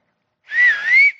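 A person whistles a single sustained, wavering tone for about half a second, a close and clear imitation of a whistle sound standing alone.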